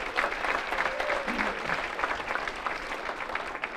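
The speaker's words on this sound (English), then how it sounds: "Give them a round of applause." An audience at a Hall of Fame induction ceremony claps in a steady, moderately loud burst of applause that carries on without a break.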